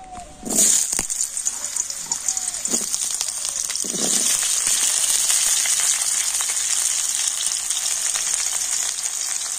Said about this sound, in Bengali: আর এখন আমি আলুগুলো তেলের মধ্যে ভেজে নেব।